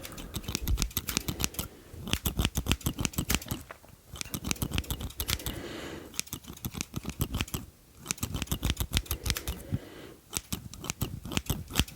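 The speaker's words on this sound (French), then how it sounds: "je vais prendre les deuxièmes ciseaux pour aider" Rapid, crisp snipping of scissors cutting hair close by, in fast rhythmic runs broken by short pauses, steady and fairly loud.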